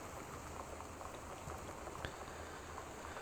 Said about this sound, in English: we're having a severe storm, hence the rain, and there's flooding conditions